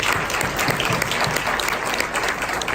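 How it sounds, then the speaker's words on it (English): An audience breaks into full, dense applause, a continuous loud wash of many hands clapping with no break, nearby and filling the room. "Round of applause to you guys."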